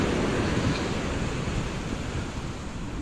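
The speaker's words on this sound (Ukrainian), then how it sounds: "ці хвилі стають все сильніші і сильніші. І все більше і більше досягають моїх ніг" Ocean waves break and wash up the shore in a continuous loud roar of surf, with wind buffeting the microphone. The waves grow stronger and reach the feet of someone standing at the water's edge.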